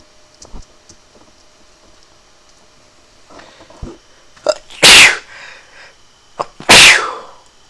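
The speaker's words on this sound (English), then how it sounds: "did not mean to go sneeze on camera" During a modded Minecraft playthrough, a person sneezes twice, loud and close, after a few faint ticks and taps in an otherwise quiet room.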